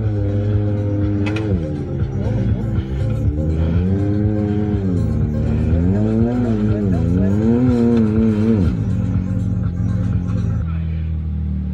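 A Yamaha Ténéré 700 motorcycle with its rear tire dug in and spinning on the rock at Hell's Gate, Moab. The engine roars loud and close, its revs surging and falling in several waves throughout.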